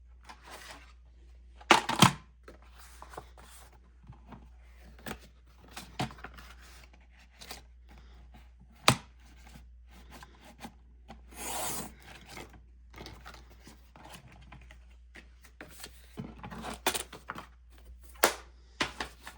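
Paper trimmed for a craft project, a series of crisp snips and rubbing swipes spaced irregularly over quiet moments, close and distinct with a faint low hum underneath.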